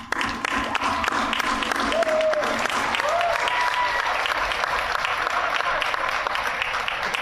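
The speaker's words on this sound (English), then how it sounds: "as we recognize and applaud your parents, guardians, guests, and families." Audience applause fills a senior recognition ceremony at a career center, a steady, dense crowd clapping that holds loud and even throughout, with a few faint voices and whoops mixed in.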